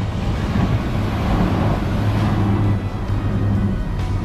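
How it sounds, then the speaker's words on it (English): An Irish Rail intercity commuter train running from Portarlington to Portlaoise passes a country road: a steady, loud broadband rumble with a low drone and gusty wind noise throughout. "That's the intercity commuter train."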